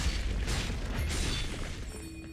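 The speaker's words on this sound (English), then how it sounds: "Your turret has been destroyed." A turret is destroyed in League of Legends, a heavy booming explosion with a crumbling burst that rumbles through the whole moment, loud and close, tailing off with faint game chimes at the end.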